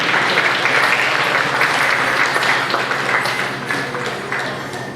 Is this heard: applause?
yes